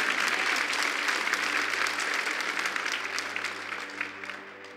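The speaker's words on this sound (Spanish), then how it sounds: "denle un fuerte aplauso al Señor" A church congregation applauds loudly and continuously, a dense wash of clapping from many hands that fades a little toward the end.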